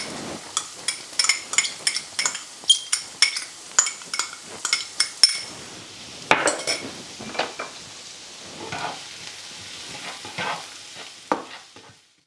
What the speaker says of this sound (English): we're going to add our onions and our chili peppers